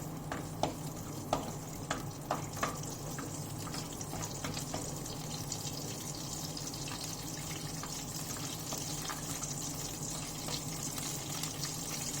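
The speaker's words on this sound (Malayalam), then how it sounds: "നെയ്യിലാണ് വറക്കുന്നത്." Cashew nuts and curry leaves fry in hot ghee with a steady, dense sizzle that runs the whole time, close and even, with a few light stirring taps early on.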